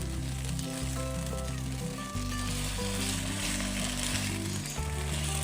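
Eggplant and mushroom sizzle in hot oil with a steady, loud crackle, while sustained tonal hum and clatter from the kitchen run underneath.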